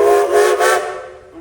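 A steam traction engine's whistle blows at a tractor parade, a loud, bright, sustained tone with rich harmonics that wavers briefly and then fades out near the end.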